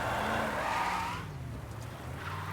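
In the Mafia video game, a car drives and skids, with a rising engine note and a brief tire squeal over a low rumble, fading into a quieter idle.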